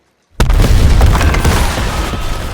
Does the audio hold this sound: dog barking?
no